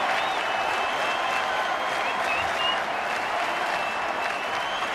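A sellout crowd at a baseball game between the Marlins and the Cardinals, standing and cheering in the bottom of the 8th inning: a loud, steady roar of applause and cheering fills the whole clip.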